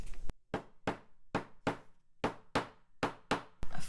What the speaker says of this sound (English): and a small hammer,